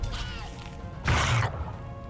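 A single wet, heavy tentacle slap attack in a World of Warcraft-style pet battle, loud and brief, landing midway over a low ambient backdrop.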